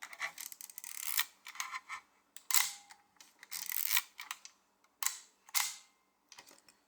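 A Pentax K2 SLR shutter with over-tightened base screws fires repeatedly, giving a series of sharp, close mechanical clicks and snaps in irregular bursts with no talking.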